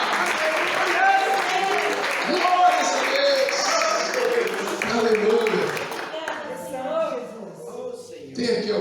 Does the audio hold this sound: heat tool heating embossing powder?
no